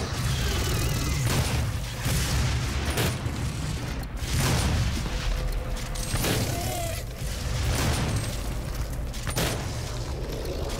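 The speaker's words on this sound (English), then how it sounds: "Big grenade." Grenade blasts in DOOM Snapmap combat: a series of heavy booming bursts, roughly every one to two seconds, over a dense, clattering battle din.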